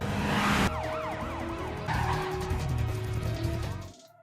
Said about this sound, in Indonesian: Aksi kejar-kejaran mobil pun terjadi.